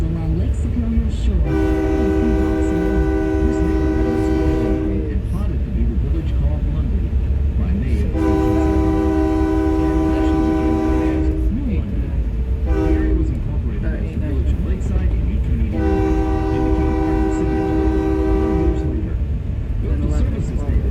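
Passenger train rolling through a lakeside city neighborhood on Lake Superior's shore, with a steady loud rumble throughout and three long, harmonic horn blasts sounding one after another at close range.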